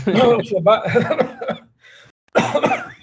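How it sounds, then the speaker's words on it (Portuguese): Several loud, harsh coughs close to the microphone during a master's thesis defense, broken by a short pause before another coughing burst. "Desculpa que a minha tosse aqui."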